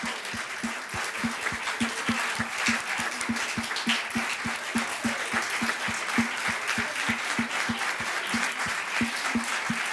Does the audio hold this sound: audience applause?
yes